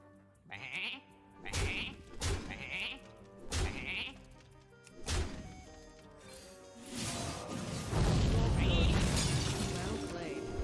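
Sheep bleats from the Hearthstone video game, several short bleats in a row, followed by a louder crash of game effects and a glassy shattering sound.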